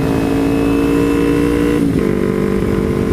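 Motorcycle engine on a ride in late-October weather, a loud continuous drone with steady tones that dip briefly and settle again, no talking.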